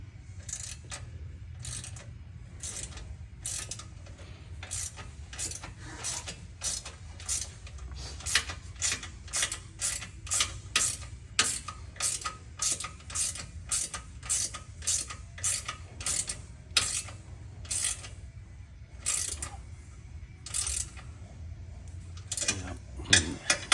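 Threaded inserts are fitted on a second-generation Toyota Tundra with the supplied installation tool, making repeated sharp metallic clicks and ratcheting ticks in an irregular but steady rhythm, close and fairly quiet, over a low background hum.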